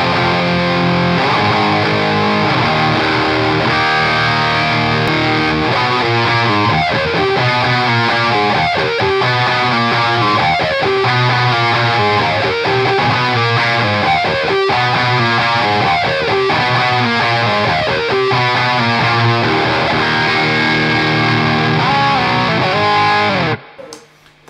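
Heavily distorted electric guitar through a Jet City JCA100H 100-watt high-gain amplifier, playing chords and riffs continuously, loud and thick, cutting off abruptly at the end.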